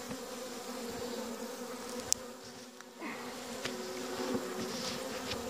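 Honeybees buzzing around an open hive during an inspection, a dense continuous drone close by with a few sharp clicks and knocks from handling the frames, no talk.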